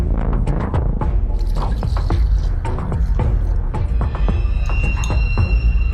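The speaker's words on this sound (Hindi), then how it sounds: "और इसमें पानी डालते हैं।" Water poured into a pot of jaggery syrup on a gas stove, a steady loud splashing and gurgling stream with dripping and bubbling running continuously throughout.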